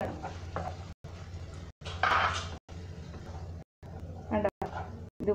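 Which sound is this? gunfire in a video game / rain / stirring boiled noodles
stirring boiled noodles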